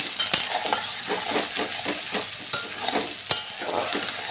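Sliced onions fry in oil with bay leaf, cinnamon and cardamom, a continuous close sizzle broken by quick, regular stirring scrapes and a few sharp clinks.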